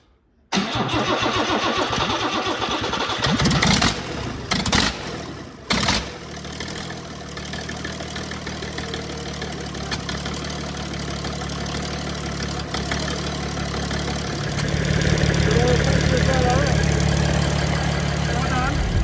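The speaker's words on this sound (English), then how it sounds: "That engine fired up and runs nice and sweetly." A repaired engine cranks, catches and fires up, then settles into a steady, loud idle that runs on for many seconds, with a brief rev near the end and no talk over it.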